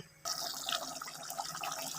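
Water pours steadily into a pot of cooking chicken masala gravy, a continuous splashing, trickling flow that starts abruptly and stays fairly close, with no talking.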